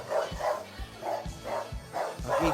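Large dogs in a residential compound bark repeatedly nearby, about six loud barks in an uneven rhythm with short gaps between them.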